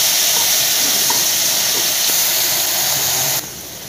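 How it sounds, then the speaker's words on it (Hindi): Ginger garlic paste fries in a pan for a spicy eggplant and potato curry, giving a steady, close, hissing sizzle throughout that drops slightly in level just before the end. "इसको भूनना है मुझे"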